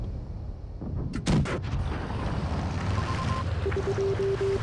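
A tank cannon fires in a video game, a single sharp blast followed by a rumbling decay over steady engine and ambient battle noise.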